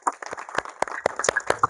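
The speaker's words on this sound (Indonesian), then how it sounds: "Tepuk tangan untuk semua." Hands clapping in a short burst from an audience at an evening gathering, sharp irregular claps close by with no talking.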